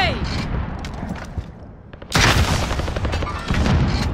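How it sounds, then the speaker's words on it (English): Rocket launch and gunfire in the video game Call of Duty: Modern Warfare, a sudden loud blast followed by dense rattling shots and explosions over game noise, with a voice speaking briefly. "Rocket away."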